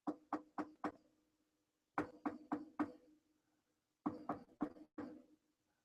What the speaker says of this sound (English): You hear knocking.